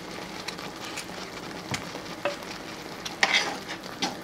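Onion paste cooking in a pan for an Indian matar paneer curry is stirred, giving a faint sizzle with soft scraping strokes and a few brief clicks near the end, close by and alone.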